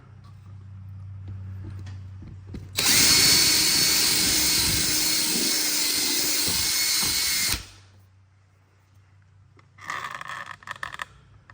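A power tool with a small tip bevels out a hole in a golf cart body, a loud high-pitched whine lasting several seconds, stopping, then a shorter rougher burst near the end.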